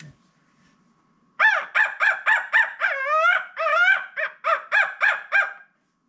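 A person imitates a crow's call with a run of loud, rapid, nasal caws, close up, after a short quiet pause, while turkey hunting.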